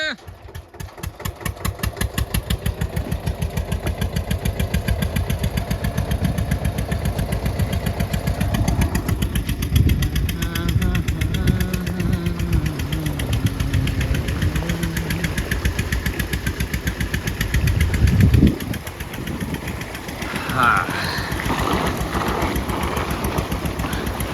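A tractor engine driving a borewell pump on a farm chugs steadily and loudly throughout, with people talking nearby over the running motor.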